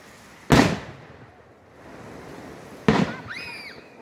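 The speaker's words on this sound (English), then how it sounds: "Watching fireworks in the back of my Silverado in my backyard." Two booming firework bursts go off about a second and a half apart, each followed by a crackling tail, heard from a backyard roughly a thousand feet from the launch site, with faint whistling rising after the second.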